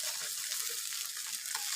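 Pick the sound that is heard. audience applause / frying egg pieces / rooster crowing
frying egg pieces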